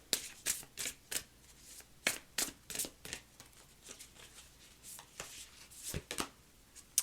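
Tarot cards are shuffled by hand in quick riffling bursts, crisp and close, with short pauses between the flurries and no talking.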